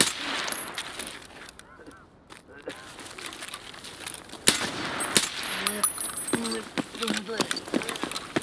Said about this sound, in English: there's some gunfire there